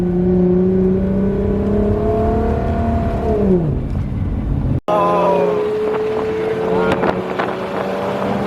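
A twin-turbo Audi R8 engine revs loud and close, pitch sweeping up then dropping, before a brief cut and another hard acceleration with rising engine tone and wind noise.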